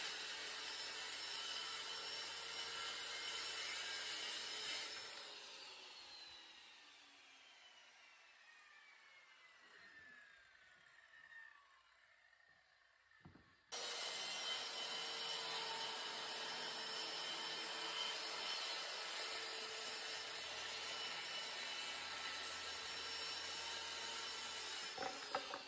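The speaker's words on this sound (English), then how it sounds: "to use a regular circular saw to cut out the pieces" A circular saw cuts scrap wood pieces in two long loud passes, the motor's steady whine dropping into a quiet spin-down between them before roaring back up.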